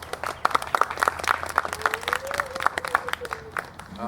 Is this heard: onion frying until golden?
no